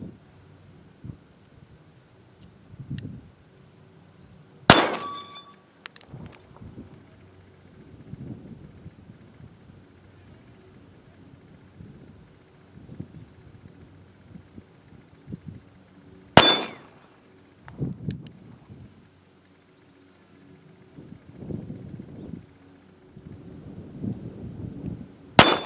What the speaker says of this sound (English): Getting ready to shoot the steel spinner target with the Smith & Wesson Bodyguard 380